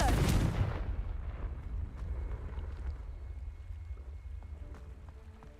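A Confringo fire spell bursts at once in Hogwarts Legacy: a loud blast that fades into a long, low rumbling roar, with a few faint ticks and tones near the end.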